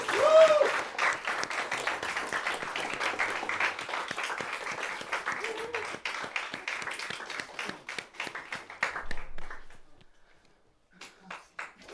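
An audience at a Latgalian prose reading event applauds an award winner, with dense clapping that thins into fewer separate claps and fades out near the end, then a few faint taps.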